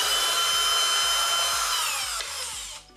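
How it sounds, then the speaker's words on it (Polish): A cordless screwdriver drives screws out of a DeLonghi Cappuccino coffee machine being repaired, a loud close motor whine with rapid rhythmic ratcheting that winds down and stops near the end. "To jeszcze musimy wykręcić tu wkręty."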